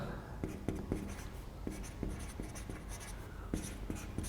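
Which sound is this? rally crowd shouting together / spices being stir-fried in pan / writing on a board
writing on a board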